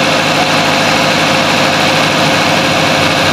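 A Toyota Corolla engine idles steadily and loudly during coolant bleeding, with the constant whirring hum of the radiator fan layered over the low rumble.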